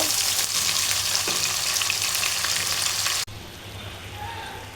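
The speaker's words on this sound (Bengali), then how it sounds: "এখন এই চিকেনগুলো আর পেঁয়াজগুলো একটু খানিকক্ষণ ভেজে নেব।" Chicken pieces and onions frying in a pan while a biryani is being cooked give off a loud, steady sizzle, with a brief stir partway through. The sizzle drops abruptly to a quieter, thinner hiss near the end.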